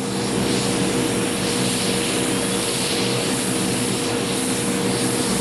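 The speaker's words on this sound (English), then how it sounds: "Clear number four engine. Number four is clear." Propeller aircraft engine being started during a Coast Guard airborne patrol, a loud steady drone with deep throbbing low rumble and broad noise holding constant throughout, no voices.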